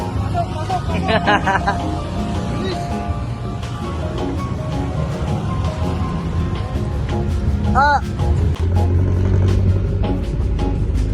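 A tricycle ride through Manila traffic carries a constant engine rumble and road noise, with car horns and street sounds around it and people talking throughout.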